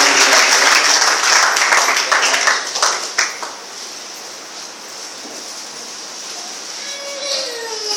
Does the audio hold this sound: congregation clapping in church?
yes